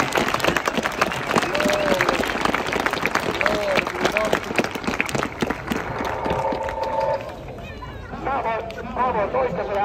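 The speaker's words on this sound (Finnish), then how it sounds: "Nyt saa taputtaa kaikille vielä kerran." Crowd claps at a drift competition award ceremony in Nivala, dense sustained applause with chatter and a voice over the PA, the clapping thinning toward the end as voices and background noise take over.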